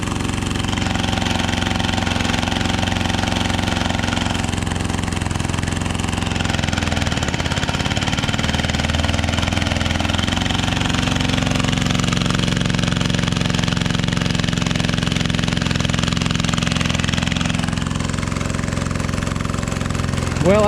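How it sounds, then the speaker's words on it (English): A motor drives a pump on a farm nurse tank, running as a steady, loud mechanical drone that holds without a break for about twenty seconds. "it looks like that motor's gonna run that pump just fine"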